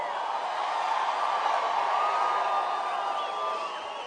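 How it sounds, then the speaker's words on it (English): Dense crowd noise at a Donald Trump rally in Knoxville, Tennessee, a steady roar of cheering and whoops from a large audience, loud and sustained throughout with no break. "What an unbelievable crowd."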